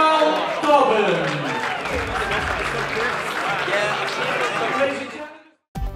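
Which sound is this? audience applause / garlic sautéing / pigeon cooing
audience applause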